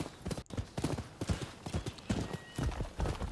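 Horse hooves clip-clopping in the video game Rise of the Ronin, a quick, continuous run of hoof beats with a brief whinny, mixed with in-game ambience.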